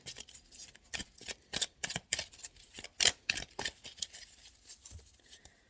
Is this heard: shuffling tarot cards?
yes